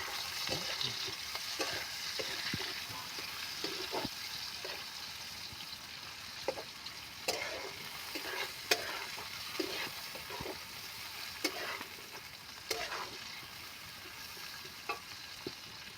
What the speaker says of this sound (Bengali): পেঁয়াজ কুচিগুলো দিয়ে দেবো আমি ভালো করে ভেজে নেবো